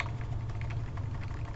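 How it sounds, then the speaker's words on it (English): Rapid clicking of computer keyboard keys as shortcuts are pressed, a quick dense patter of soft taps heard close and alone over a steady low hum. "If I use the keyboard shortcuts,"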